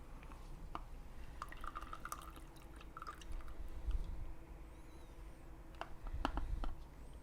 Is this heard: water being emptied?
yes